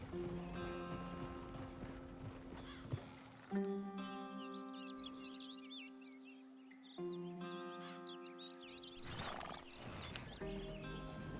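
A horse ridden in Red Dead Redemption 2 clip-clops faintly under sustained musical tones, with a brief snort or whinny near the end.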